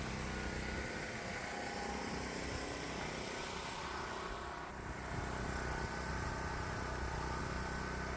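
Golf cart fitted with a big 420 gasoline engine runs at roughly 3700 to 3800 RPM, a steady, sustained high-revving engine drone that is quite faint, with a brief dip near the middle and no talking.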